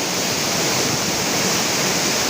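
A small village waterfall near Araku in a tribal area rushes steadily, making a dense, continuous roar of falling water that stays close and loud without a break or any voices.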